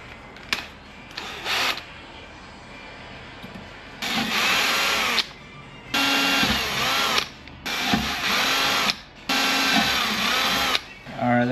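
A power drill ports the housing of a Mazda RX-7 FC 13B rotary engine using a template, whirring in several loud bursts of a second or more separated by short pauses, close up in a workshop.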